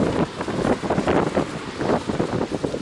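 Gusty wind roars steadily outdoors near a hut shelter during rain, buffeting the microphone in loud, fluttering waves with no voices.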